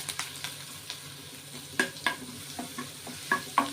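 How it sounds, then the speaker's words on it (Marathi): Cumin seeds, crushed garlic and curry leaves frying in hot oil, a low sizzle broken by sharp spoon scrapes and clinks against the pan, several distinct stir strokes, close up with no voices. "हलवूया एकदा"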